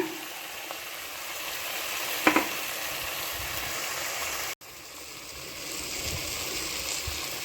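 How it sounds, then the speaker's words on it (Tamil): Tomatoes with ginger-garlic paste and salt sizzle steadily in a hot pan for a quail gravy, a continuous close frying hiss with a brief clatter of stirring partway through. "அது கூட தேவையான உப்பு இதை சேர்த்து நல்லா வதக்கிக்கிங்க"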